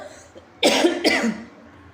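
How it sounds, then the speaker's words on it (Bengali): A woman coughs twice in quick succession while tidying and sorting saris in a cupboard, two sharp, harsh bursts close to the microphone with a brief gap between them, the room otherwise quiet. "কথা বলতে বলতে কাশি এসে যাচ্ছে"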